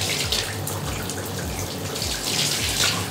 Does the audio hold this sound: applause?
no